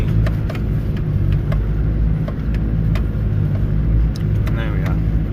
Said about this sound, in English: Dropping into low range just for some of this rock, into first gear just for some of this rockier stuff.